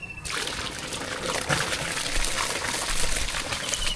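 Water for washing rice runs steadily and splashes in a home kitchen, a continuous close trickling and pouring that sounds alone throughout.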